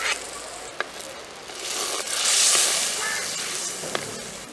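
Shallots and green chillies sauté in goat fat in a traditional village kitchen, giving a steady, moderate sizzle with a few sharp clicks from stirring and no talking.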